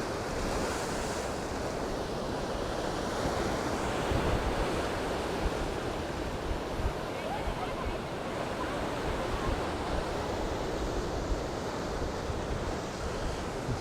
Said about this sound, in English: Waves just smashing against the rocks.